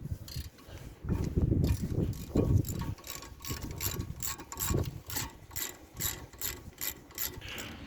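Caliper bolts being loosened and removed with a ratchet on a Ford Kuga front brake: close, repeated ratcheting clicks in bursts, with pauses between runs of turning.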